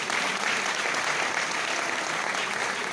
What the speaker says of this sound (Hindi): सबके लिए एक बार जोरदार ताली होना चाहिए।